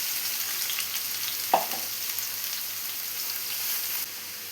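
Three large cut onions sizzle loudly in about three tablespoons of hot oil in a pan, giving a steady, close hiss with one sharp utensil knock partway through.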